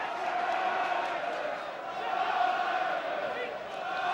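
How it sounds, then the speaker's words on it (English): A rugby crowd at Leicester against Gloucester rumbles and roars after a scrum skirmish, a broad sustained swell of noise with a commentator talking over it. "It's got the crowd going, hasn't it?"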